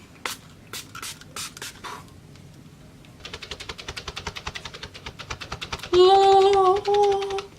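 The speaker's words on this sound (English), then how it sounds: "here's my rose water, and I'm just gonna go ahead and spray my whole face with that" A few short mist sprays of rose water face spray, then a rapid run of rhythmic pumping hisses, followed by a loud tonal mechanical whir near the end.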